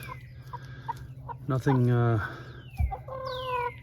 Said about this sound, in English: All right, so I just have 5 hens.